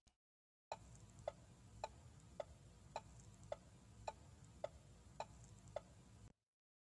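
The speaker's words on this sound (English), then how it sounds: "a turn signal or blinker from car" Steady, evenly spaced turn-signal blinker clicks from a 2016 Ford Focus, about eleven sharp ticks roughly every half second over a low cabin hum, close and alone with no talk.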